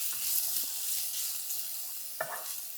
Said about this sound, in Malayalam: നന്നായി ഇളക്കി യോജിപ്പിക്കുക